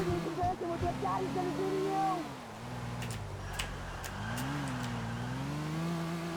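A car engine in the video game Grand Theft Auto IV drones steadily throughout, its pitch sliding down and rising again as the car slows and speeds back up.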